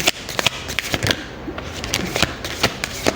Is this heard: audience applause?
no